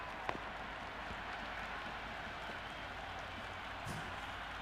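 Large crowd roaring steadily at a cricket stadium during an India vs New Zealand T20 match, a dense continuous wash of cheering with a few brief louder peaks.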